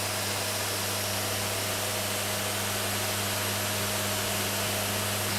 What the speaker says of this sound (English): So you let the sander do its job.